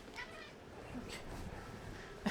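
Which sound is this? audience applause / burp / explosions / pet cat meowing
pet cat meowing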